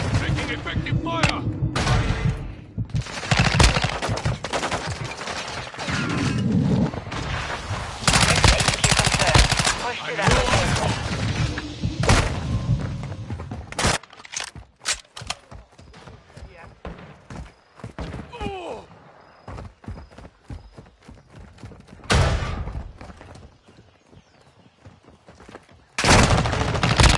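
Heavy gunfire in a first-person shooter, dense bursts of automatic fire and booming shots dominating most of the stretch, briefly easing midway before loud volleys return, with in-game radio voices calling out beneath.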